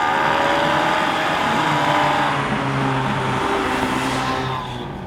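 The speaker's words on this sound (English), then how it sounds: "That's how you get that lumpy V8 American V8 sound." A Lexus V8 swapped into a 1975 Toyota Corolla, fitted with 180-degree headers, roars steadily and loudly at close range, its engine tone shifting slightly as it revs before easing off at the end.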